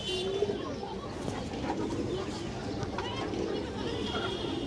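Two pairs of domestic pigeons coo softly in a low, repeated murmur close by, with someone talking over them and faint background noise.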